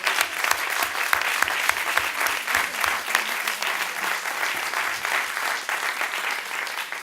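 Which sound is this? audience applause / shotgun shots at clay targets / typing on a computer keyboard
audience applause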